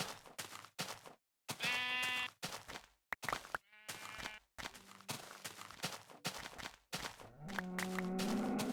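Sheep in a video game bleat several times in short, wavering calls, with gaps and a few soft footsteps between them. No one talks.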